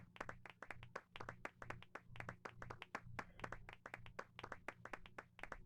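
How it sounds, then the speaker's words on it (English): Crowd clapping in the Final Fantasy VIII video game: steady, evenly spaced claps repeating throughout over a low droning game music bed, with no talking. "Aw, they're clapping for us."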